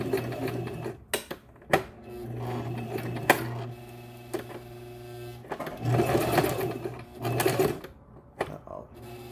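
A sewing machine stitches wig tracks in bursts, its motor whirring and needle chattering, pausing between runs while a person speaks in the gaps.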